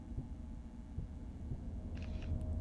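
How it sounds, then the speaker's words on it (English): A heartbeat sound effect throbs low and soft at a steady pulse under a faint hum, in an audio drama set in a night city, with no voices over it. "Kai and Nerith now find themselves much more distracted with the heartbeat."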